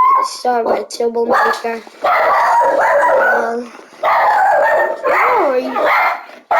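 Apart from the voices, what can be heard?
dog barking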